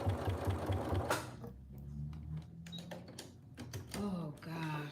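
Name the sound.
sewing machine top stitching a denim corset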